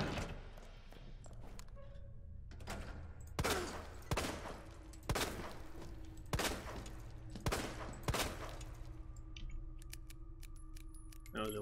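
Gunshots ring out in Resident Evil 2 Remake: about seven loud, evenly spaced shots over a quiet game ambience, each with a short echoing tail.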